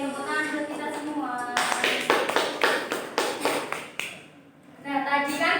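Fifth-grade students in a classroom clap their hands in a quick rhythmic burst of about eight sharp claps, with a teacher's voice speaking before and after.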